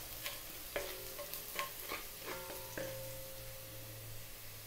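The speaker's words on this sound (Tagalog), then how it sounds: "Lagyan na natin yung ating sibuyas. So, lulutuin ko lang siya ng mga less than 1 minute." Onions sizzle in a pan with browned garlic for a Filipino pork mechado, a steady close frying hiss broken by several short scraping stirs.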